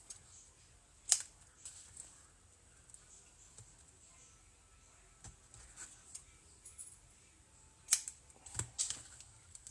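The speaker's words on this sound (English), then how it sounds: "Scissors." A few sharp, brief snips of scissors cutting paper, quiet and close, separated by stretches of near silence with faint rustling.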